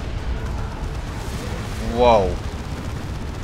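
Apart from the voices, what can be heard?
artillery explosions in video game Dawn of War 2 Retribution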